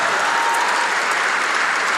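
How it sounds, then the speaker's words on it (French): Church congregation at a Paris conference session bursts into sustained applause, a thick even wash of many hands clapping with no speech over it. "put your hands together for the Lord and give the Lord a shout of praise"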